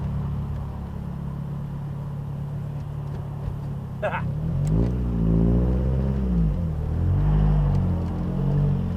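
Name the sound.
1999 Mitsubishi Eclipse GS Spyder engine running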